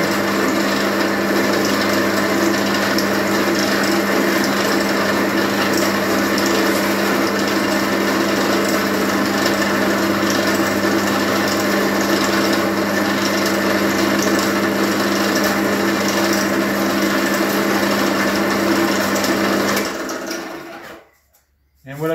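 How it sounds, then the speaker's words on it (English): A drill press runs steadily as it bores holes in wood for building a harp, a continuous loud motor whine that holds for about twenty seconds before winding down and stopping. "What's really nice is you have a drill press"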